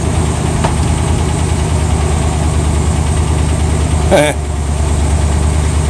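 A 1978 Chevrolet El Camino V8 with a freshly adjusted carburetor idles steadily up close, a low, even rumble with a short clatter near the end.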